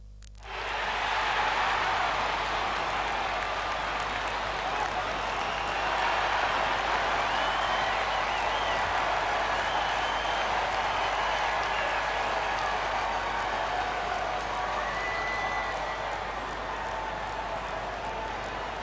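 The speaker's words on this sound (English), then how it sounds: "The crowd is assembled here at the Target Center in Minneapolis, looking for the Timberwolves to have a victory here on their home floor." A steady, dense arena crowd roar from the NBA 2K17 basketball video game, fans at the Target Center in Minneapolis awaiting tip-off, holding at an even loud level throughout with faint commentary mixed beneath.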